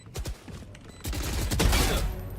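Rapid bursts of gunfire from the video game Valorant, with several sharp shots early, then a sustained dense volley that grows louder and fills the second half, close and loud.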